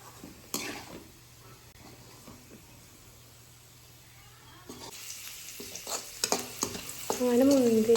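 Raisins frying in oil in a pan for an Eid chicken dum biryani, starting as a low simmering hiss that swells after a few seconds into louder, busier sizzling with stirring scrapes and soft clatter.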